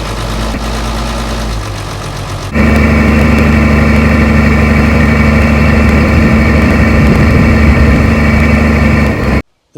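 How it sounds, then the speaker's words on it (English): A turbocharged farm recovery truck engine idles while warming up, starting as a lower rumble before stepping up to a louder, steady, even-running drone that holds until it cuts off near the end. "So we'll just let it warm up a little bit. Certainly a nice running engine."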